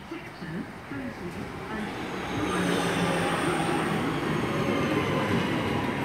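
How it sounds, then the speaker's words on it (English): A Class 323 electric train pulls into a station, its rumble rising from a quieter start to a loud, steady roar of wheels and motors with a faint high squeal; a voice is heard briefly near the start. "Also coming in is the 1550 service to Wolverhampton via Birmingham New Street, originating Walsall,"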